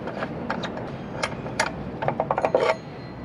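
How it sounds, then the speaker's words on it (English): A nut is unscrewed from a chop saw: a close series of small metallic clicks and ratcheting rattles, sparse at first and then quicker and louder near the end before stopping. "we're going to take that nut off. So that nut just comes off, and this nut turns counterclockwise to take off."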